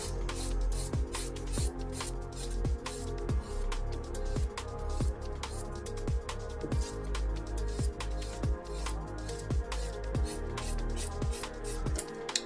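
A 180-grit nail file rasps along the edge of a fingernail in quick, even back-and-forth strokes, close and steady, with no talking.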